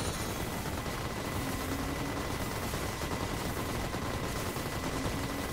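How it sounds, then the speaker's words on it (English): Covenant enemies firing weapons in a video game battle with Marines, a dense, continuous wash of rapid gunfire that holds steady and busy throughout with no clear pauses. "the Covenant are shooting"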